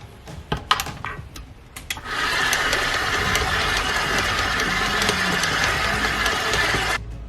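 An electric mixer blends cookie dough of butter, sugar and ground pecans, first with a few short bursts and clatter, then running steadily and loudly for about five seconds before it stops.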